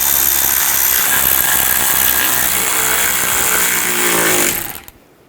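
A power tool runs loud and steady, tightening cover bolts on a 2010-16 Buick LaCrosse during a front CV axle job, then winds down and stops near the end.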